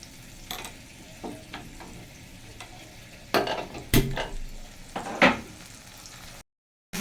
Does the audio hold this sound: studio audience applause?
no